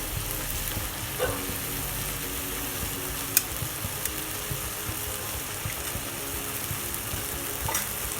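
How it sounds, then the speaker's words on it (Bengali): A spice mix is stirred into gooseberry (amla) pickle cooking in oil, a steady close sizzle with occasional scraping knocks of the spoon against the pan. "মশলাটা দিয়ে নেড়ে চেড়ে কিছুক্ষণ রান্না করে নামিয়ে নিব।"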